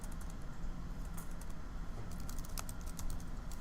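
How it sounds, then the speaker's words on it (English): Quiet typing on a computer keyboard, a steady run of light key clicks with brief bursts of faster tapping, close and soft with no talk. "I'm having trouble typing today."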